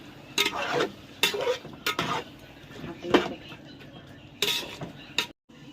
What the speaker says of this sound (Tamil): தக்காளி சேர்த்து ஒரு 2 நிமிஷம் வதங்கமாக்கும்